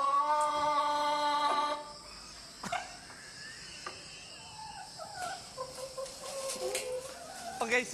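Chickens cluck and a rooster crows loudly at the start, followed by scattered softer clucks and calls over a faint background of insect chirping.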